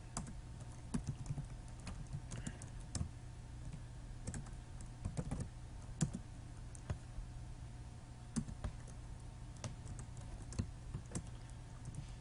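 Keys clatter on a computer keyboard during a C++ calculator programming session, irregular bursts of close, crisp clicks over a steady low hum, with no talking.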